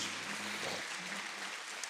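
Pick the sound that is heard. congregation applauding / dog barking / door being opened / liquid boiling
congregation applauding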